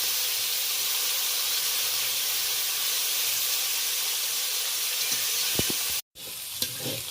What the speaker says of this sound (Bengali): হালকা করে তেল দিয়ে হালকা লালচে করে চিংড়ি মাছটা ভেজে নিতে হবে